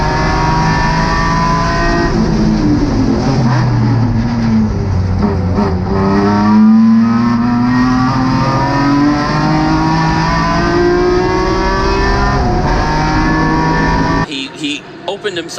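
Race cars in a GridLife GLGT race at Gingerman Raceway sweep through a track turn, engines roaring loudly and continuously with rising and falling pitch, beneath steady commentary voices, before the roar cuts off abruptly near the end.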